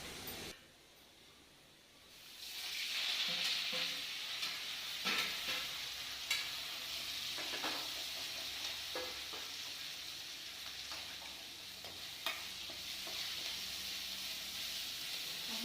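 Whole spices, mostly black pepper, dry roast in a pan for a mutton curry, a soft steady sizzle with occasional scraping stirs after a quiet start.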